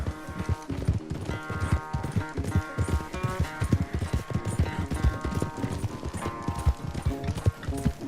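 A horse gallops during a race in the video game Red Dead Redemption 2. The rapid, steady clip-clop of hoofbeats runs throughout, close and prominent over a tonal musical score.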